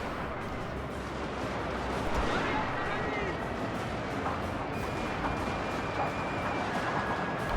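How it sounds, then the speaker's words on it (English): Musket volleys from French Marines in the samurai-era strategy game Total War: Shogun 2 – Fall of the Samurai, a dense continuous crackle and rumble of massed gunfire and distant artillery, with a voice talking over the battle. "Got my French Marines firing in now as well."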